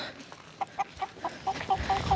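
Clucking from an agitated rooster on a farm, a regular series of short, fairly close calls over a low background rumble with no talk.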